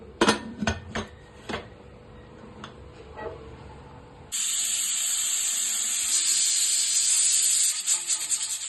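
A pressure cooker on a stove cooking chicken biryani, first a few sharp metallic ticks and clinks, then a sudden loud, steady hiss of escaping steam that holds for several seconds, close by with no voices.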